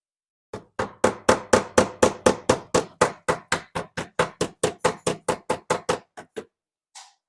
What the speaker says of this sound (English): when the rust is that compacted, you're better off knocking it out